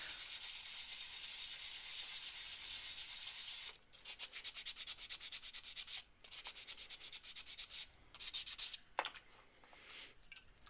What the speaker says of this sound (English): And I'm just going to keep sanding until